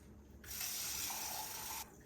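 Cold water runs from a tap into a sink during a rinse after a cleaning solution is poured away, a steady hissing gush that starts abruptly, holds for over a second, then cuts off, quiet overall.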